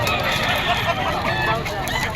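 Several rooster stags and other fowl at a busy outdoor pet market crow and cluck in a loud, dense mix, with voices chattering underneath.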